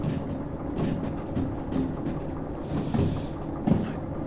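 A locomotive hauls a train while shunting at a steel mill in the Derail Valley railway simulator, a low rumbling roll with scattered clanks and a brief hiss of air, heard alone.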